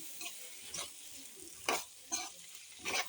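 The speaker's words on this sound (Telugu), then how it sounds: "ఈ పసుపు చికెన్కి అంతా కలిసేలాగా కలుపుకుందాం" Chicken being stirred with turmeric and ginger-garlic paste in a pan, several distinct scraping strokes spaced about half a second apart over a faint, quiet sizzle.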